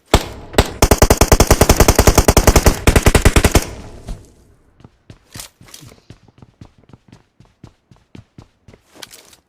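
Rapid automatic gunfire in PUBG Mobile during a scrim match, a loud sustained burst of close shots followed by slower, fainter single shots and footstep-like taps.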